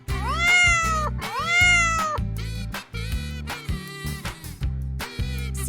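A cartoon cat meows repeatedly in a children's animal lesson, with long rising and falling meows and a caterwauling tone over a steady rhythmic music bed.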